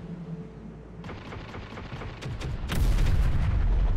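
Howitzer artillery fires in the Terminator Dark Fate Defiance war game, with a low rumble building into a dense series of heavy booms and blasts that grow louder toward the end.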